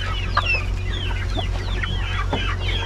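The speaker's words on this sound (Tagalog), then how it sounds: "Puntahan natin pagkatapos ng mapagkain sa ating mga alagang manok." Several chickens cluck and chatter at once, with scattered short calls over a steady low background hum; no one speaks.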